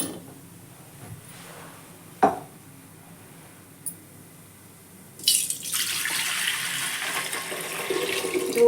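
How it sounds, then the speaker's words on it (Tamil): Milk is poured into a pan of roasted white poha for aval payasam. After a couple of faint clinks, a steady liquid pour starts and keeps going, close up, with no talk. "இப்போ பால் சேர்த்துக்கலாம்."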